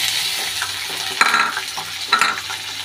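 Onion, curry leaves and tomato sizzle and fry in a pan while a spoon stirs and scrapes, with a few sharp clinks against the metal, close and steady, no talking.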